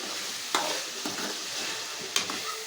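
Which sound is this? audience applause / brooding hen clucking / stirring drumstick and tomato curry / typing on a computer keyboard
stirring drumstick and tomato curry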